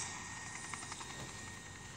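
A helicopter in the game World of Gunship gives off a steady, whooshing rotor drone with faint pulsing beats, continuous and fairly quiet.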